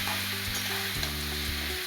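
Raw banana and potato pieces fry steadily in hot oil while being stirred, a continuous close sizzle with soft scraping, no voices.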